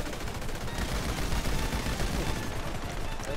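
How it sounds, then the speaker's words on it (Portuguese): Dense, continuous rapid gunfire in GTA V Online crackles and booms throughout, loud and unbroken, with no voices. "tomou uma rajada de tiro"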